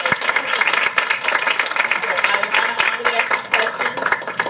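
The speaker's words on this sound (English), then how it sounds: "So I want a big applause for Joi." An audience at a women's recognition event breaks into dense, sustained applause for an honoree, with many hands clapping at once in a busy, steady roar that continues throughout.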